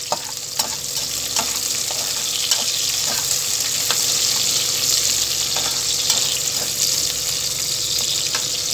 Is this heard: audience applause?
no